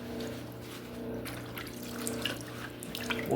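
Water from a hose sprays and splashes over a rusty engine crankshaft during Ford 2.3 turbo block prep, a steady close rushing wash with gurgling variation, no voices.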